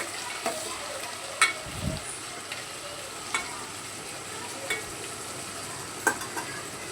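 Onions and tomatoes sautéing in oil for a small-onion kuzhambu give a steady low sizzle, with a few soft scrapes of stirring scattered across it. No one speaks.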